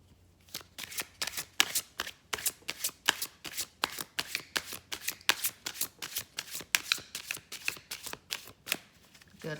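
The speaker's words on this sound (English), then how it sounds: "Good hard shuffle." Rapid, rhythmic tarot card shuffling, crisp riffling bursts repeating steadily one after another, close and clear with no talking.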